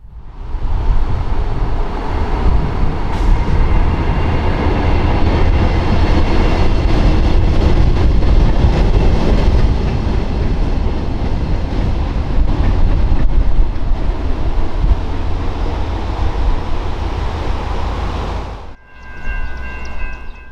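A Norfolk Southern local freight train rolls past near Depot Town in Ypsilanti, a loud steady roar of wheels and cars for about twenty seconds, ending abruptly as the last car clears.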